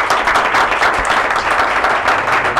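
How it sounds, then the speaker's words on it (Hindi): An audience at a mass communication career counseling session breaks into steady, dense applause, many hands clapping together loudly throughout. "ज़रा ताली बजानी हो तो दिल खोल के बजाया करें।"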